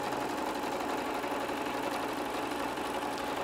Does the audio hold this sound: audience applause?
no